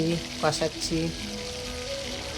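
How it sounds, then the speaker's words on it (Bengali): Soybean chunks sauté in a pan with a continuous close sizzle throughout, while a brief voice-like tonal sound rises over it near the start. "সোয়াবিনটা দিয়ে কষাচ্ছি"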